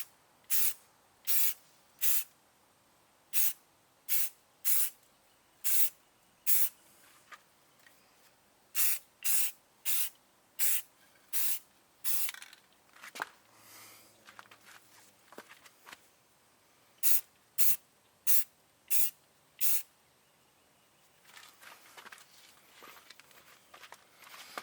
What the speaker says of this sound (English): Now we're going to add a light layer of primer.